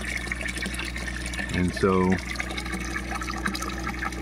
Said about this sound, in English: Now this water right here is being pumped directly out of that pit.